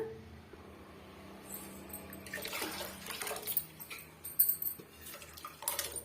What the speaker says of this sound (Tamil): நான் இன்னுமே வந்து இது கூட நான் தண்ணி சேர்த்துக்கிறேன்